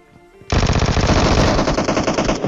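A Vector submachine gun fires a sustained, very fast burst in PUBG Mobile, a loud dense rattle of shots starting abruptly after a short quiet lead-in and lasting to the end.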